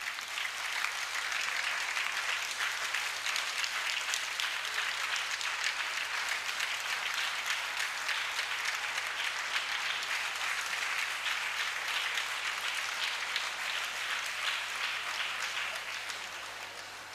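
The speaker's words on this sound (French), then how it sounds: "Acclamez pour celui-là." Sustained applause from a large crowd at a national church convention in Togo, a steady dense clapping that holds for many seconds before tapering slightly at the end, with a low hum beneath.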